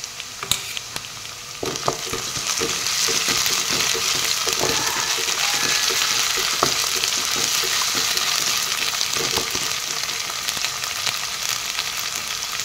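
A spoonful of ginger, garlic and cumin paste sizzles and crackles in hot oil with browned onions, a dense steady frying hiss close by with occasional clicks of stirring, and no voices.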